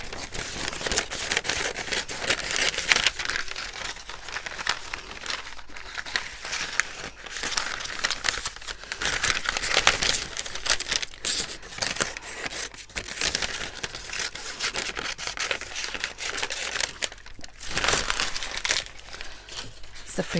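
Freezer paper being roughly cut with scissors around a dog silhouette for appliqué, giving steady close crinkling, rustling and snipping throughout.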